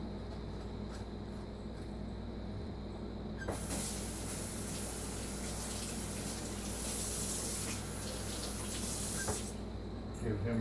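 Water from a kitchen tap gushes steadily into a glass sauce jar being rinsed out in a sink, a loud continuous spray that swells partway through and runs without talk.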